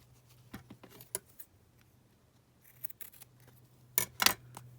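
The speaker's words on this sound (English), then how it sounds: "So I'll just trim that down." Scissors trimming layered lace on an ephemera craft piece: a few scattered snips and crisp cuts with quiet pauses between, ending in a louder pair of close snips.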